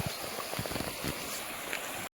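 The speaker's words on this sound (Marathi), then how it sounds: "शांत नदी वाहते मस्त. आणि ह्याच प्रवाहाचा आवाज आपल्याला कालपासून शिरीषच्या घरी येत होता." A Konkan river flows steadily just after the monsoon, giving a soft, continuous rushing and gurgling wash with faint low splashes. The sound is moderately quiet, carries no voices, and stops abruptly at the end.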